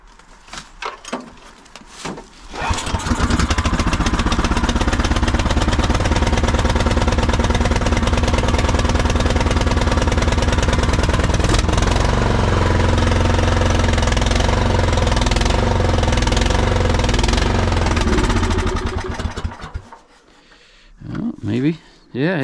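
Cold-weather snow blower engine starting up and running choked, a loud rough steady roar lasting about sixteen seconds before cutting back, with a person talking briefly before and after.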